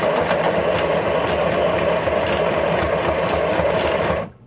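A sewing machine runs steadily at full speed with the foot pedal pressed to the floor, a loud continuous whirring drone that stops abruptly at the end.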